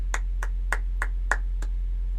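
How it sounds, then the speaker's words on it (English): Six evenly spaced hand claps, crisp and moderately loud, ringing out one by one over a steady low electrical hum, with no voices. "I want to give claps"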